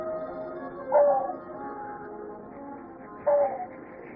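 An arctic fox gives two short, sharp barks several seconds apart, each with a brief tonal yelp, heard clearly against a quiet background.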